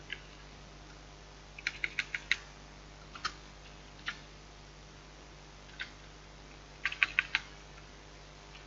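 Keys on a computer keyboard are tapped while HTML is typed, in scattered short bursts and single clicks that sound faint and close against a quiet room.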